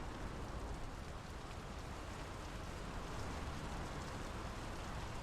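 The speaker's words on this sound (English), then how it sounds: "The rain's picking up." Steady rain pours down in the video game Draugen, a dense, even hiss that holds at a constant level throughout with no voices.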